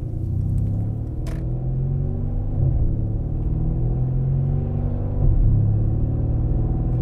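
A 2017 Mercedes C63S AMG engine gives a deep, steady rumble from inside the car while driving, swelling slightly at moments as it pulls along.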